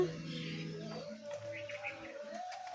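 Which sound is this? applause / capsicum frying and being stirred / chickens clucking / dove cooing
dove cooing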